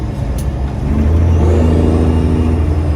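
A Freightliner Classic semi truck engine revs and rumbles steadily, loud and close, its low drone rising after the first second and holding.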